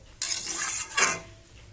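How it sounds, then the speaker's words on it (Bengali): A pot of meat curry is stirred, making two short scraping, sizzling bursts close by, with no speech. "এবার এটা নেড়ে দিয়ে ঢেকে রাখবো"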